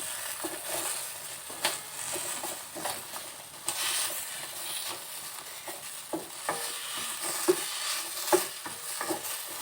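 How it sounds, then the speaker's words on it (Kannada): Green chilies frying in a pan with a steady close sizzle, broken by stirring scrapes and small pops and taps as they are tossed, with no talking. "ಚಂದ ಹುರಿದವ ನೋಡ್ರಿ."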